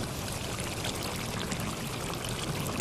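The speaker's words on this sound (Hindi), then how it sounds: "आलू है, आलू डाल दिए हैं।" Potatoes tipped into a cooking pot of Pakistani aloo gosht curry, giving a steady rushing, sizzling pour-like wash of sound that stays even and fairly quiet throughout, with no voices.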